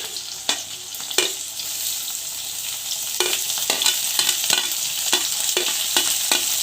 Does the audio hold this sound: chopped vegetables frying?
yes